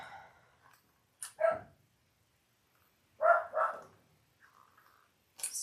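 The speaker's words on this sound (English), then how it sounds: "Sorry for the barking dog." A dog barks in short bursts indoors during a sewing session, with a pair of barks, a pause, then a louder double bark and a faint yip near the end.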